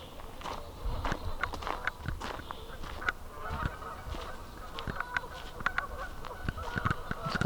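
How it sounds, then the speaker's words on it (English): Geese in a lakeside goose colony honk repeatedly in irregular bursts, several birds calling at moderate distance, with occasional footsteps on the ground nearby. "It's a whole freaking goose colony over there."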